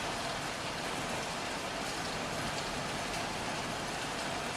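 Steady heavy rain pours down in a gloomy city scene from the video game Heavy Rain, a dense, continuous hiss that fills the whole stretch with no voices.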